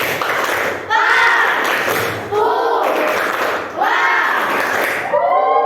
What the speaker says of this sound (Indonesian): Silakan, tepuknya mana? Tepuk Papua semuanya